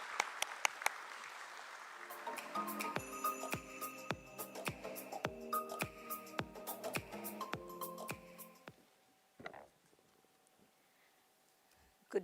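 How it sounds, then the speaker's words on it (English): A short burst of applause at a stock exchange listing ceremony at BSE opens, then a steady run of sharp, evenly spaced percussive strikes with ringing tones, fading to near silence. "Let's give a roaring round of applause for ma'am,"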